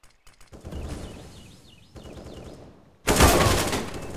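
A burst of gunfire on the middle route of the Inferno map in CS:GO, arriving as a loud, dense volley near the end after quieter footsteps and game ambience.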